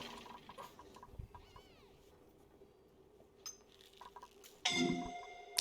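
A bright chiming notification pings near the end of a quiet Oxygen Not Included session, short and clear over faint low background sounds.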